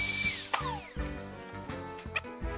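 A screwdriver turns the small adjustment screw on a door hinge, giving a few short mechanical ratcheting clicks at close range with no talk.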